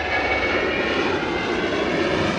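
A Jet2 airliner's engines roar steadily at Liverpool Airport, a loud, continuous broadband jet rumble with a high whine, close and unbroken throughout, with no voices.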